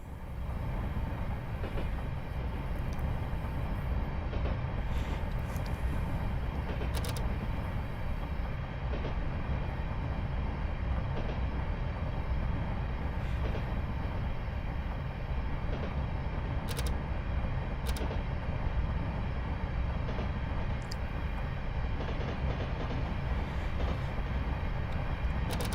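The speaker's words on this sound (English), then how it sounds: "the AI trains can drive through points at full speed and they don't derail" An AI-driven train in a Train Simulator game rumbles through points at full speed, a loud, continuous roar with rolling rail noise and occasional sharp clicks throughout, with no talk.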